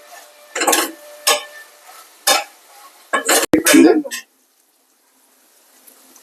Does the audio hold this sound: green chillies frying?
yes